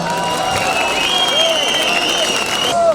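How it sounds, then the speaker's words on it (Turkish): A crowd applauds at an outdoor New Year celebration in Marmaris as the mayor is invited on stage; steady, fairly distant clapping runs beneath sustained tonal music or whistling, with some voices. "Kocaman alkışlarınızla."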